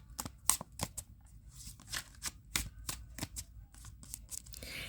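Tarot cards being shuffled by hand in short irregular bursts of crisp riffling and slapping, close up, with pauses between the handfuls.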